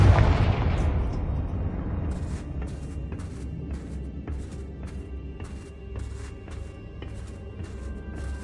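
A Confringo fire-blast spell in Hogwarts Legacy detonates with a loud booming burst that decays over about two seconds, then a rapid series of sharp crackling pops follows at a steady rhythm.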